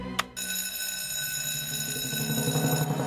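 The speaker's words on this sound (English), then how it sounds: "Time to sound the alarm." A bright electronic cartoon alarm ring from Fireman Sam bursts out briefly, then cuts to a steady, sustained tonal hum that carries on loudly to the end.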